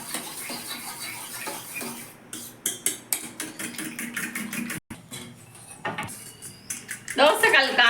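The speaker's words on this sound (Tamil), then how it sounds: "உப்பு பெப்பர் எல்லாம் நல்லா கலக்கிற மாதிரி நம்ம கரண்டி வச்சு நல்லா அடிச்சுக்கணும்" A spoon beats a mix of egg, chilli powder, salt and pepper in a bowl, giving rapid, irregular clinks and scrapes close up under steady background noise.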